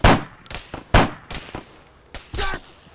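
Enemy gunfire in the military shooter game Arma 3 comes from multiple angles as several sharp, close shots crack out at irregular intervals, each followed by a short decaying tail.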